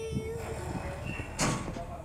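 Door closing in the Roblox game The Intruder, a brief mid-clip thud with a scraping slide, heard beneath excited Portuguese chatter from players.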